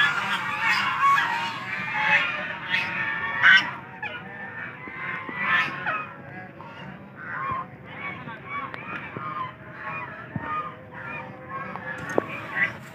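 Many ducks at an amusement park in Karachi call out in loud, honking quacks, overlapping and close, a dense noisy flock chorus with some faint talk underneath.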